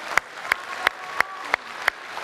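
Audience at a presidential candidates' debate gives a short burst of hand-clapping, with sharp, evenly spaced claps standing out over a steady wash of applause for about two seconds.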